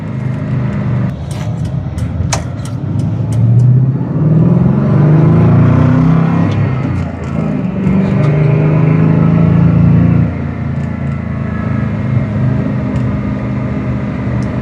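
A 2022 Revology Shelby GT350 engine revs and roars loudly, rising and falling in pitch for several seconds before settling back to a steady idle.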